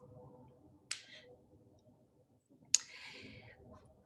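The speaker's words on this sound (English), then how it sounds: "top right corner, click Next." Two crisp computer mouse clicks, close and distinct, spaced about two seconds apart over a faint background murmur.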